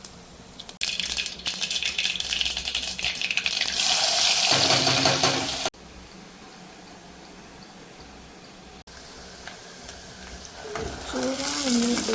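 Black-eyed peas and potatoes hit hot ghee with cumin, bursting into a loud close sizzle that settles into a steady fry, with stirring and faint clatter toward the end.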